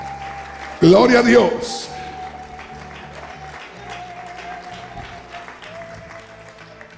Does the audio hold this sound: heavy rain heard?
no